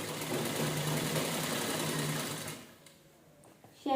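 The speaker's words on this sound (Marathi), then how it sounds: "पूर्ण गळ्याला आपण व्यवस्थित शिलाई करून घेऊया." A sewing machine stitches along the back neckline and lining of a blouse. It hums steadily for about two and a half seconds, then stops, leaving a quiet pause and a small click at the end.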